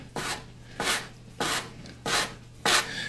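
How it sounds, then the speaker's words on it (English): A floured bench scraper cuts and pushes gnocchi dough across a work bench in five evenly spaced scraping strokes, close and crisp against quiet room tone. "I like to get a little flour on the bench scraper or knife, and then you're just gonna cut them and just move them."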